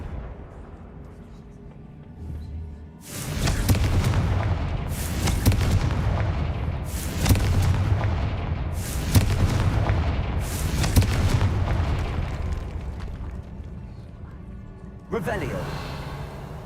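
Confringo fire spells in Hogwarts Legacy burst in a rapid string of five loud, booming blasts, each with a sharp crack and rumbling tail, followed by a brief swoosh as the volley ends.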